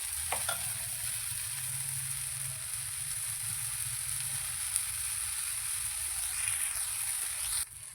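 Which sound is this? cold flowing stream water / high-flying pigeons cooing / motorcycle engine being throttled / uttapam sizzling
uttapam sizzling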